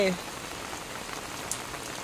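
Steady rain falls on an outdoor surface in the morning, a constant close wash of drops with a single brighter splash near the end and no voices.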